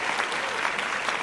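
Clapping from a small group of people continues steadily throughout, with no voices over it.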